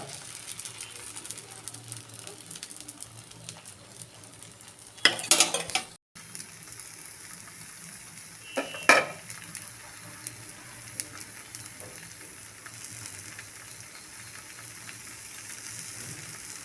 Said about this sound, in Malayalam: ഇപ്പോൾ ദോശ നല്ലപോലെ വെന്ത് വരട്ടെ കേട്ടോ.